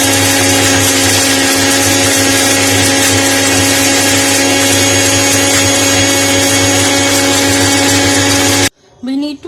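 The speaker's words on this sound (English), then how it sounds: "let's add finely chopped coconut to the blender and make it into a fine powder." A kitchen blender grinds finely chopped coconut and bourbon biscuits into powder with a loud, steady whirring roar for about nine seconds, then cuts off abruptly into a brief moment of near-quiet.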